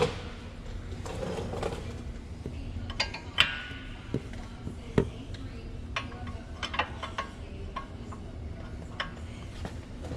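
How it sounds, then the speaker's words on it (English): Wrench clicking and clinking while backing a nut off a lower ball joint on a Kia during control arm replacement, a run of sharp ticks and metallic taps at close range with no talk. "I'm gonna pull that and back that nut off of that ball joint"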